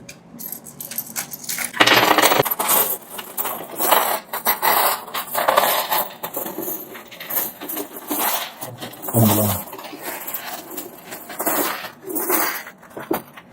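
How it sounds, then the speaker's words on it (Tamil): Sri Lankan ten-rupee coins pour out of a piggy bank in a continuous loud metallic jingling cascade, clinking and scraping close by for many seconds. "எல்லாமே இலங்கையினுடைய நாணயங்கள் பத்து ரூபாய் நாணய குட்டிகள்"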